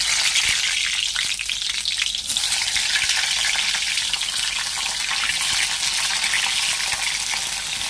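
Stuffed pointed gourd (potol) frying in a little oil in a hot kadai produces a loud, continuous, close sizzle that stays strong for the whole stretch, with no talking.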